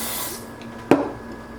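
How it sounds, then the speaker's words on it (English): A single short burst of Dior Airflash foundation spray from a can, a quick close hiss lasting well under half a second, standing alone with no talking. "All right, let's just do one little spray."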